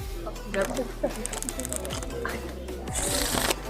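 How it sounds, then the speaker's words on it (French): A deck of playing cards is shuffled on stage during a magic trick, giving rapid close riffling and flicking under someone talking. "Et je vais remélanger pour bien perdre ta carte dans le jeu"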